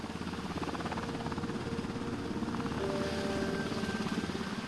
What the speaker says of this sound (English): It's great when a helicopter comes